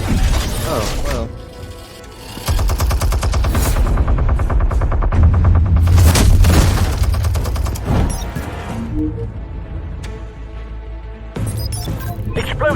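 Rapid bursts of gunfire and mechanical clattering from Batman: The Telltale Series, loud and dense, with heavy low booms and a short lull before the shooting resumes.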